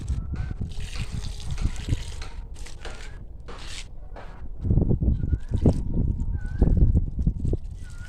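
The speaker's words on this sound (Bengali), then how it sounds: "তারপর দিয়ে দেবো জল।" Water is poured onto a potted flowering plant grown from an aloe vera gel–treated cutting, with trickling and splashing that swell into heavier gurgling bursts toward the end, and faint talk in the background.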